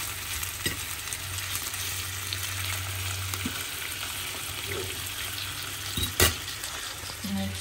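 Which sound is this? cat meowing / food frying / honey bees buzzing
food frying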